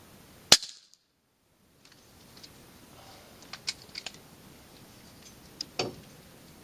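A rifle shot is fired off the side of a Ranger utility vehicle outdoors, one sharp loud crack early on, then quiet outdoor ambience with faint scattered clicks and handling noises.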